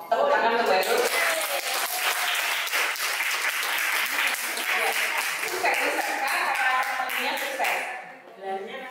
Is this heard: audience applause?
yes